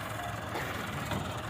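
A tractor engine, one of two tractors working together to free a stuck Massey 640 with a rotavator, runs as a steady rumbling drone at moderate distance with no voices over it.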